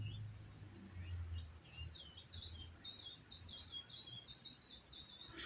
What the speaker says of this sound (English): Hope you guys enjoying the birds at the moment.